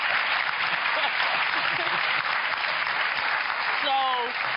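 Studio audience on a TBN Christian talk show gives steady, dense applause that fills the whole stretch at a strong, even level, with a brief voice cutting through near the end.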